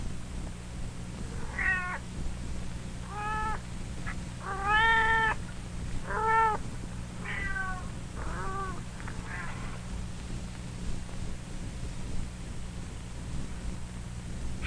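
Newborn kittens cry in a string of about eight thin, high mews at a steady pace, fairly close, over a low background hum.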